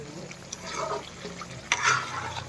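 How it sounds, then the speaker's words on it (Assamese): Meat sizzles and fries in a pan with a steady hiss, and a few scraping stirs rise briefly near the end. "পুৰা ভাজি আছোঁ মাংসটো"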